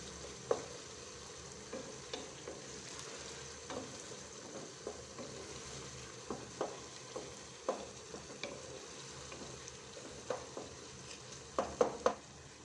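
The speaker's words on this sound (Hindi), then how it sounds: "अब मैं इनको अच्छी तरह से मैश करूंगी टमाटर को और अच्छी तरह से भुनाई करनी है" Soft sizzling of tomatoes frying in a pan while a utensil repeatedly presses and scrapes, mashing them, with scattered light taps against the metal.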